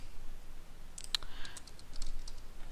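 Quiet clicking of keys on a computer keyboard: a short cluster of light taps followed by several more scattered keystrokes over a faint background hiss.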